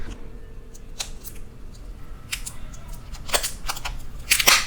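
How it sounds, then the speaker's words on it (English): Protective plastic film is peeled off a Samsung A10 smartphone, giving close, crinkly crackling bursts that come in short spurts and grow louder and denser toward the end, with no talking. "this is the most satisfying part of reviewing smartphones, the removing of the plastic"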